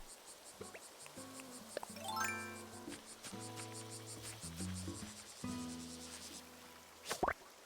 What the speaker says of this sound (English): giant cicada, let's go